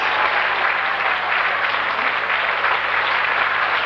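An audience applauding a band at a stage concert, dense, steady clapping at a constant level throughout, loud and close with no voices standing out.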